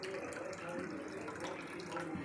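Water pours steadily into sugar in a pan to make syrup for boondi, a continuous close, even splashing stream that runs the whole moment without pause.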